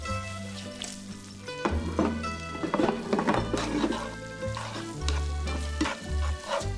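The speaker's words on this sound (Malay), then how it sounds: "Lepas tu korang kacau lah. Ataupun boleh buat cara tossing macam ni." Seafood spaghetti aglio olio is stirred and tossed in a wok, with scraping, soft thunks and a light sizzle over background music and no talking.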